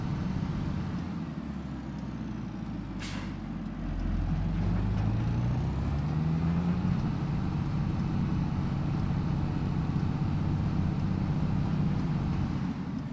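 A tractor engine in a farming video game drones steadily and loudly throughout, a constant low rumble with a brief rising whoosh near the start and no speech over it.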